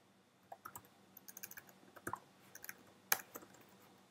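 Code being typed on a computer keyboard: scattered irregular key clicks in short bursts, close and fairly quiet, with one sharper louder keystroke near the end.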